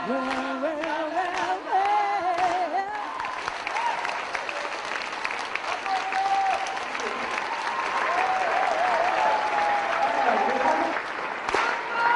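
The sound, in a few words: concert audience clapping hands to the rhythm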